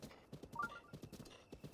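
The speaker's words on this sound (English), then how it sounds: "I would love to register this horse." Horse hooves clip-clop in Breath of the Wild, a steady rhythmic run of close, soft thuds with a brief whinny-like tone in the middle and no talking.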